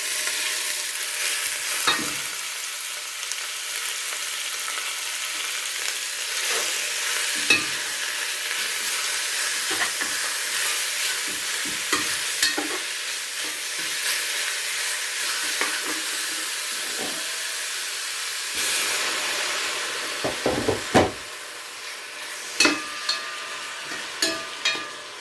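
Pieces of pork fry in hot oil for a brown stew, a loud, continuous close sizzle, with scraping and clanks from a spoon stirring the pan, more pronounced toward the end.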